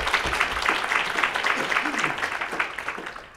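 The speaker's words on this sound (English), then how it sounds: "Give us applause." Audience applause at a cross-genre literary panel on Afrofuturism, a steady wash of clapping from a seated crowd with a voice speaking over part of it.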